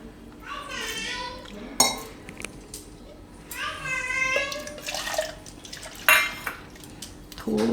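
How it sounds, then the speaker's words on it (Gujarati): Water is poured into a yogurt-based carrot idli batter in a kitchen bowl, a gurgling, rising pour in two bursts with clinks of utensils against the dish between them, close and fairly loud. "આમાં થોડુંક પાણી નાખશું હવે."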